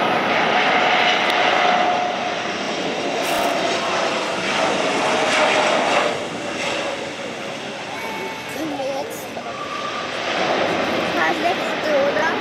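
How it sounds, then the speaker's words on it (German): An Airbus A400M military transport aircraft lands at a Bundeswehr air show in Wunstorf, its propeller engines roaring loud and steady throughout with a broad rumbling drone, while a commentator speaks over the noise. "Jetzt setzt es zur Landung an und steht ungefähr innerhalb von 500 bis 600 Metern."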